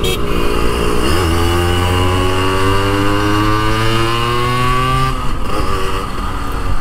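A Yamaha RXZ six-speed two-stroke motorcycle revs hard and close, its loud buzzing engine note climbing steadily in pitch for several seconds before dropping off and picking up again.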